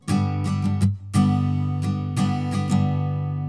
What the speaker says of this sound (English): you use a shorter strumming pattern that sounds like this